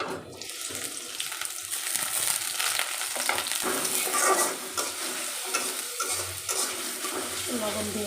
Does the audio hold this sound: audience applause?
no